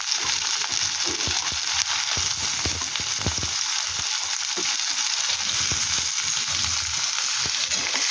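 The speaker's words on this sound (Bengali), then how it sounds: "ফটফট করে ফাটছিল, তার সাথে আলুটাও দিয়ে দিলাম।" Potatoes and onion fry in oil in a pan with crackling spices, giving a loud, steady sizzling hiss dotted with frequent sharp pops and occasional stirring scrapes, without speech.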